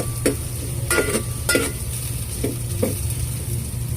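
Ingredients for papaitan cooking in a pan, with a steady sizzle under repeated sharp clacks of a spatula striking the pan in an irregular rhythm, close and fairly loud, no talking.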